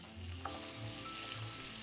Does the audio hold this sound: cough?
no